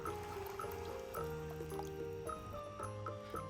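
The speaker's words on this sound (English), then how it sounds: "Add enough water to cover the chickpeas." Water poured over dried chickpeas in a bowl to soak, a quiet continuous filling trickle with small bubbly tones rising in pitch, heard alone and close.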